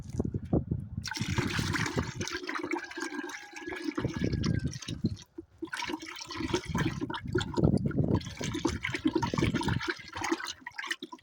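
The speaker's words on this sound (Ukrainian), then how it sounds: "будемо додати мідний купорос до вапна і помірно розмішувати" Liquid sloshing and trickling as copper sulfate is stirred into a lime solution and poured, with splashy bursts and brief pauses, close and moderately loud.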